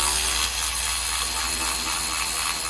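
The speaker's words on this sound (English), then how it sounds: "We're removing now the last bolt." A hand tool works the last bolt off the mechatronic unit of a diesel Audi's gearbox, with a close, loud, continuous mechanical grinding and rattling.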